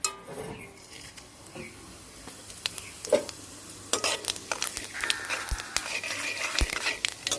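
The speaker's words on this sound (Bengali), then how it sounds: "তেলটা গরম হয়ে গেছে দিয়ে দিব ফোড়ন এই যে পাঁচ ফোড়ন দিতেছি আমি" Panch phoron spices frying in a little hot oil in a wok, a soft sizzle with scattered crackles and pops, plus clinks of a spatula stirring against the pan.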